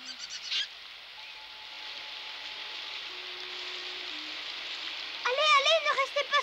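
Steady hissing patter of rain fills the scene, with a brief voice at the start and a sharp, wavering bird-like call near the end.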